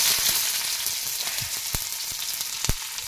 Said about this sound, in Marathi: मोहरी तडतडली की लगेच कांदा टाकायचा.